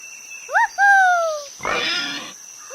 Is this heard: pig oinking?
yes